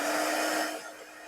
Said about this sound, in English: it's time for that heat gun again because things need to dry a little more quickly.